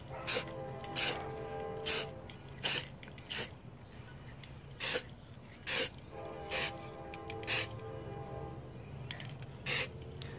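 Short bursts of spray paint hiss inside a Dollar Tree glass to make mercury glass, roughly a dozen quick puffs at uneven intervals, close and crisp over a faint background hum.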